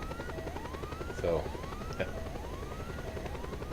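A helicopter in Just Cause 2 whirs and throbs nearby, with a repeating rising tone sweeping under a steady rotor beat and a couple of sharp impacts, while a voice speaks briefly.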